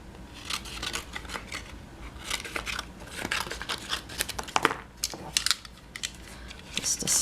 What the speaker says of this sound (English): let me cut this down a little bit